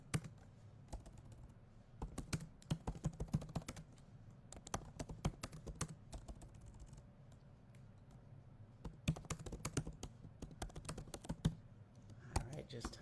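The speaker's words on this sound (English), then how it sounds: "Let me type in my good morning." Someone types on a computer keyboard in quick, uneven bursts of soft clicks with short pauses between them, heard faintly and up close.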